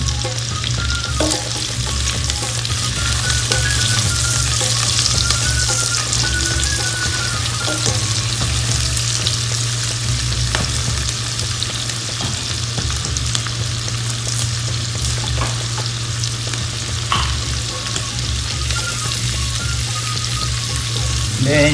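Shrimp for Tom Yum fry in a pan with a loud, steady sizzle that runs continuously, broken by occasional scraping stirs, over a low background hum.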